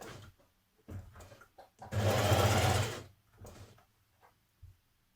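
Sewing machine stitching the upper collar of an unlined Simplicity 8554 coat, with one loud continuous run of about a second amid quieter handling clicks and short starts.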